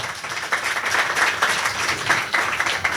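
Scattered clapping from a church congregation during a Christmas sermon, with uneven bursts of hands rising and falling at moderate loudness in a reverberant hall.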